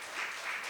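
Audience applause at a Sunday youth church worship service, a brief even wash of many hands clapping, moderately loud and without speech.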